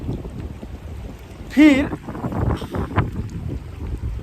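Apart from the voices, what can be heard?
strong wind blowing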